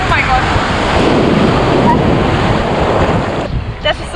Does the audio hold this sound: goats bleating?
no